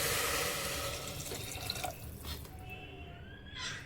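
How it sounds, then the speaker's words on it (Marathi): Water is poured into roasted khapli wheat in a pan, a steady splashing pour that tapers off after a couple of seconds into lighter trickles and drips, heard close and without any talking. "आता ह्याच्यामध्ये आपल्याला पाणी घालून घ्यायचं आहे।"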